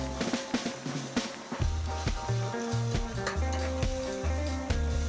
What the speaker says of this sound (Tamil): இப்போ நல்லா வதக்கி விடுங்க.